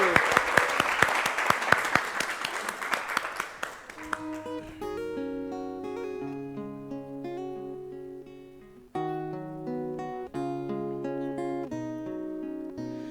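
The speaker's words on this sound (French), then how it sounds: "Et on l'applaudit" An audience at a music show in Madagascar applauds a singer, a loud burst of many hands clapping with sharp individual claps, dying away after a few seconds as a melodic instrumental tune takes over.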